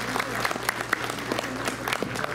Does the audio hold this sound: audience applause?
yes